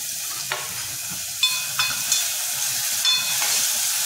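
Curry leaves and half a tomato frying in a pan, a steady hiss broken by several sharp spatula scrapes and clinks against the pan, close up with no talk.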